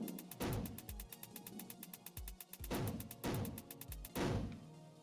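Rapid, evenly spaced electronic gunfire pulses run nearly nonstop in the space shooter game Gravity Waves, layered with heavier thumping impacts and a droning background.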